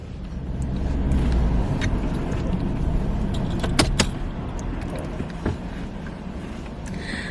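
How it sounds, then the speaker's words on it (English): A car being driven, a steady low engine and road hum inside the cabin with occasional small clicks and rattles, no talking. "I'm going to drive now."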